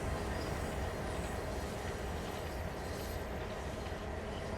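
A locomotive in the Train Sim World video game rolling past close by, a continuous loud rumble of wheels and rail noise with faint squeal, steady throughout and with no voices.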